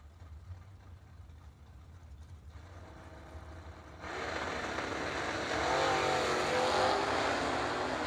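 Drag racing dragsters launch down a pair of lanes at a Christmas bash event, a low engine rumble swelling into a loud, sustained roar that grows stronger partway through.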